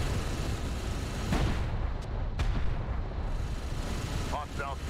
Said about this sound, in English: Beautiful effects with the dust and the explosions.